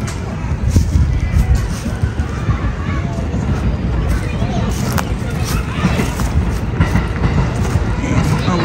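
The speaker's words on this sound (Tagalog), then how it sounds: "Oh, may train. May train doon, may train." Train passing near a park, a loud continuous rumble and rattle of rail cars rolling by up close for the whole stretch, with a voice speaking over it.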